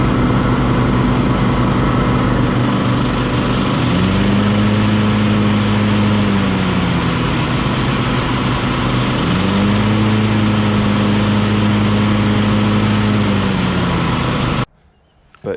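A Weibang or Toro four-wheeled petrol mower engine runs loud and steady, its pitch dipping and rising twice as the revs change, then cuts off abruptly near the end.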